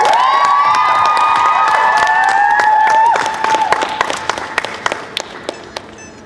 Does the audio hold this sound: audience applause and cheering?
yes